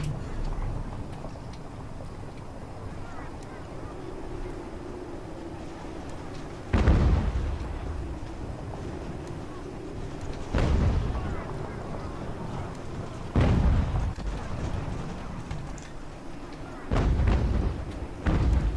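Cannon batteries firing on an eighteenth-century American Revolution battlefield in Ultimate General, four heavy booming shots spaced several seconds apart over a steady rumbling battle bed, with someone talking throughout.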